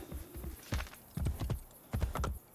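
Horse hooves clip-clop in quick irregular clusters of hollow knocks in Assassin's Creed Brotherhood, close and clear with no talk over them.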